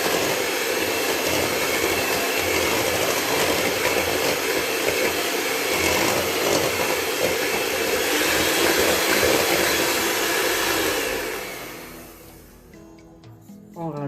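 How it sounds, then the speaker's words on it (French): A stand mixer whirs steadily as flour goes into chocolate cake batter, a loud, continuous motor whine that winds down and stops near the end. "Une première partie qu'on va mélanger avec le robot"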